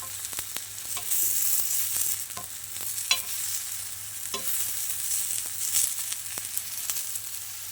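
Tomatoes roasting in a pan for brinjal chutney, with steady frying sizzle and repeated scraping stirs of a utensil across the pan, close and moderately loud, no voices.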